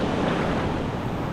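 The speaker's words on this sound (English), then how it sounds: "The waves are a bit calm now, you know." Calm ocean surf at Portland, Jamaica, heard as a steady, dense wash of breaking water close to the microphone, with wind noise blended in and no voices.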